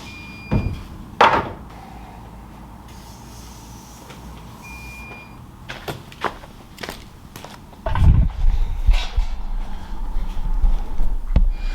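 Salvaged full-size glass-panelled doors being handled indoors, giving a few sharp knocks and bumps early on, then heavier scraping, clattering thuds and shuffling toward the end, close by with no talk.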